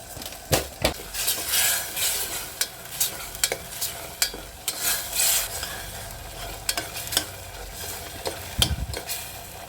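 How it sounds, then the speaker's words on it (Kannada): Masala for mushroom biryani frying in oil until the oil separates, a close crackling sizzle broken by repeated scraping strokes and clacks of a spatula against the pan. "ಚೆನ್ನಾಗಿ ಎಣ್ಣೆ ಅಂಶ ಬಿಡಬೇಕು, ಅಲ್ಲಿವರೆಗೂ ನೀವು ಫ್ರೈ ಮಾಡ್ಕೊಳ್ಳಿ."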